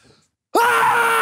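A man lets out one loud, sustained shout after a short quiet pause, trying to set a loudness record; the yell is strong and steady, holding for over half a second right up close.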